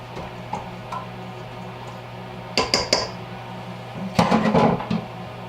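Sprouted wheat bread mixture stirred in a bowl, a few close scraping clinks in short clusters over a steady background hum, no talking.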